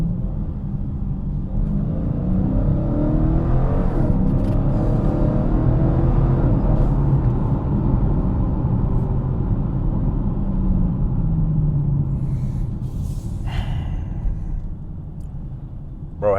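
A 2023 Dodge Challenger T/A 392 V8 rumbles loud and close with continuous engine drone, swelling and falling as it downshifts through a curve, revving under blips of the throttle.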